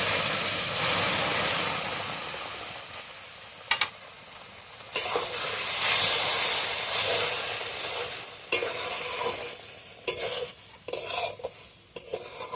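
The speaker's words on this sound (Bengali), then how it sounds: "এবার আমি কিন্তু দুধটা দিয়ে দেবো।" Milk hits semolina frying in hot ghee for a halwa and hisses loudly, followed by steady sizzling and repeated scraping stirs of the pan, close up with no talking.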